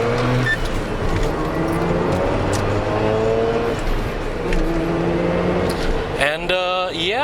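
Mazda RX7 Type R Bathurst R rotary engine revving hard under acceleration on an open highway, a loud, steady rising drone that climbs through the revs, ending in a sharp upshift-like sweep near the close.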